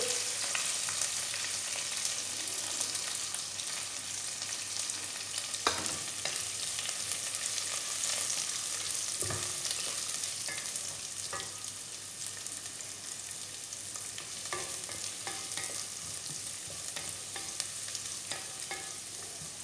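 Carrots sauté in a pan for vegetable oats upma, a steady soft sizzle with occasional stirring scrapes and light clinks, close and even throughout.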